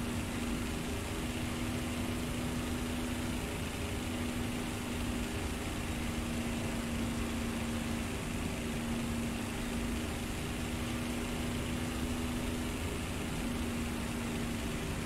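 A War Thunder aircraft piston engine drones steadily throughout, a constant low hum with an even whooshing roar and no breaks, moderately loud and alone.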